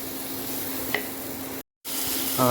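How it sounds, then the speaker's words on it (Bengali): Soybean chunks deep frying in oil over high heat give a steady, dense sizzle close by, broken by one brief silent gap, with a faint stir near the end. "ডিপ ফ্রাই আমি হাই হিটে করছি"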